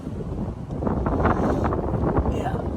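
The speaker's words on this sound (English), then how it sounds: "it's getting windy" Gusty outdoor wind buffets the microphone with a continuous low rumble, rising slightly in strength over a few seconds, with no speech.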